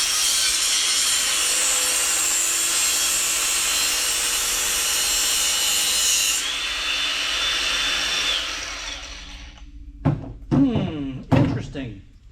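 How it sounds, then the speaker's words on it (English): A portable grinder fitted with a cutoff wheel cuts through heavy copper cable in a loud, steady high-pitched whine lasting several seconds, then winds down into a few sharp clanks and knocks as the cut pieces are handled. "So I've got my portable grinder here with a cutoff wheel on it."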